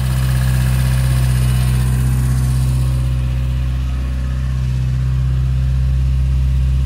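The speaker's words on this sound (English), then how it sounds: "It's idling a little high right now, but I do have the choke pulled." A Fiat 850 engine idles steadily with the choke pulled, running a little high, as a loud, continuous low hum with constant rumbling tones and no talk throughout.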